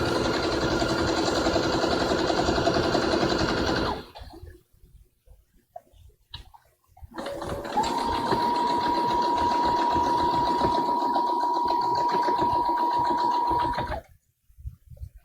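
A sewing machine stitches a fabric bookmark in two steady runs of whirring, the first about four seconds long and the second about seven, separated by a quiet pause with faint handling clicks.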